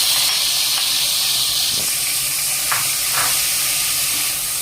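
Grated onion dropped into hot oil for a white chicken curry, giving a steady loud sizzle and hiss throughout with a few faint stirring scrapes and no talk.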